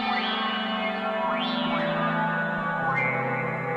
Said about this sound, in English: We got a lot of reverb on there.